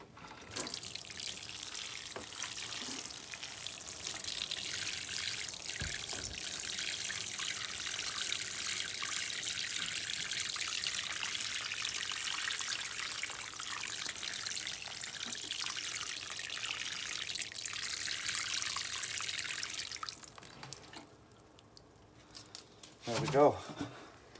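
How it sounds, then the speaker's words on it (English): Water is poured onto the soil of a potted indoor fruiting plant, a steady close splashing trickle lasting about twenty seconds before it stops, followed by a brief soft knock. "Now, this is not all the water I'm going to give it."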